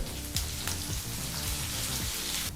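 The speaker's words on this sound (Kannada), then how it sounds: "ಈರುಳ್ಳಿ ಮತ್ತು ಹಸಿಮೆಣಸಿನಕಾಯಿ ಎರಡನ್ನು ಎರಡು ನಿಮಿಷ ಮೀಡಿಯಂ ಫ್ಲೇಮ್ನಲ್ಲೇ ಫ್ರೈ ಮಾಡ್ಕೋಬೇಕಾಗತ್ತೆ" Chopped onion and green chillies frying in oil over a medium flame, a steady dense sizzle with soft crackles and pops, close and even throughout, with no voices.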